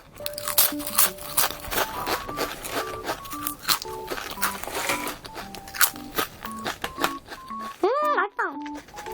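Loud, crisp crunching of original-flavor potato chips, bite after bite in quick bursts, with a voice talking over the chewing.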